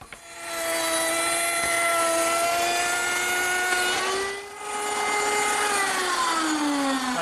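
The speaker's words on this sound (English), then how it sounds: "And I'll use my router table to do that." A router table spinning a slot cutter cuts grooves into wood stock, a loud, sustained high-pitched whine that dips briefly mid-cut and then resumes, with no talking.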